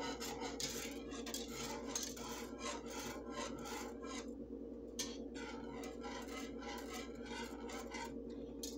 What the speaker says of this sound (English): I'm just gonna go ahead and whisk it in.